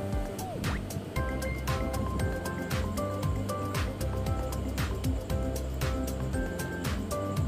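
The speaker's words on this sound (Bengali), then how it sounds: "ঝোলটা ফুটে উঠেছে" Omelette curry gravy bubbles in a pan, with a close, steady run of popping drips and gurgles and bright little plops recurring throughout, without any voices.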